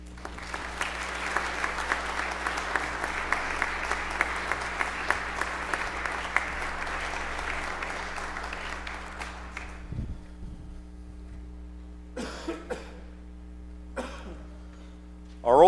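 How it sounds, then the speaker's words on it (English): Church congregation applauding graduates at a worship service, a sustained round of clapping that fills the space for about ten seconds, then fades into quiet room noise with a few coughs and shuffles. "as the congregation sends you off with a round of applause"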